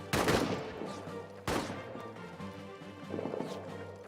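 Two sharp bursts of gunfire ring out in the trench-warfare game All Quiet in the Trenches, each a hard crack followed by a rumbling decay, the second arriving about a second and a half after the first, with a low hum underneath.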